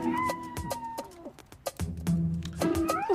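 Several meows from a cat, with other voices in the scene intermittently overlapping the calls.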